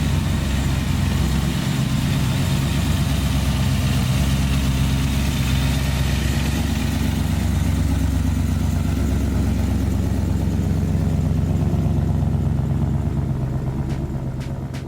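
A blown 850 hp big block engine in a 1966 Chevelle SS pro-street muscle car idling, a loud, steady, lumpy low rumble that runs throughout without a break.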